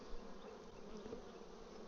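A dense, steady hum of honey bees fills the air, tens of thousands of them buzzing together close by in a continuous, unbroken drone.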